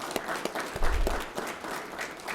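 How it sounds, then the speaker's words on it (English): Audience applauding county commissioners at a citizens academy graduation and volunteer recognition, a thin, moderately faint clapping with a few sharper individual claps standing out over about two seconds. "We have to give them a round of applause for what they do."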